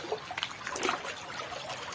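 Water runs and trickles in a farm field, a soft, uneven babble with small splashes, faint and fairly close, no voices.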